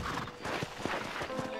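A horse in the Red Dead video game whinnies while its hooves clip-clop in a steady rhythm, several close, distinct hoof beats under the neighing.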